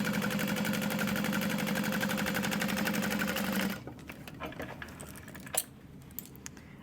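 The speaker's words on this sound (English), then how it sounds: "And top stitch at 1/8 of an inch." A sewing machine topstitches a tote bag exterior at 1/8 inch, running as a steady rapid close whir for several seconds before stopping, followed by light handling clicks and rustles.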